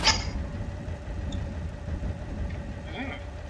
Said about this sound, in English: Considering this is the three-liter, it's a pretty big engine.